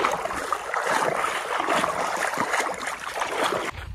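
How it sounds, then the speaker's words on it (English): Water trickling slowly along a shallow outback creek in the Pilbara, a steady close bubbling wash that fades slightly near the end, with no talking. "The water's not flowing very fast at all here. Barely a trickle."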